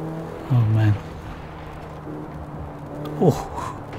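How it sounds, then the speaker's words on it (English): A car in Forza Horizon 4 approaches and passes, a short engine whine rising and falling twice, with a brief vocal sound early on and a quick pitch sweep as it goes by. "Car coming toward me."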